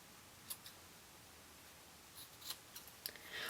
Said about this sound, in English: These stringy pieces here, you can cut away. Just gonna trim them off.